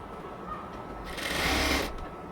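A sewing machine stitches a cotton dress in a short burst, its motor whirring up louder for about a second before easing back, close by and with no talk.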